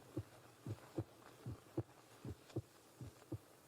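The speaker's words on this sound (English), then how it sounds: "his heart pounding" Pounding heartbeat sound effect from a radio crime drama, a steady double-thump repeating about eight times in under four seconds, low and throbbing with no voices over it.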